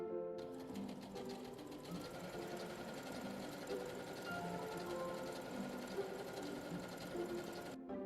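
A Brother sewing machine runs steadily, stitching a zigzag pattern with a fast, even mechanical chatter that holds for several seconds before stopping, fairly quiet and close with no talk.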